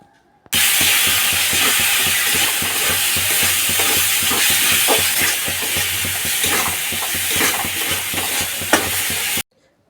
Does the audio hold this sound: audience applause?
no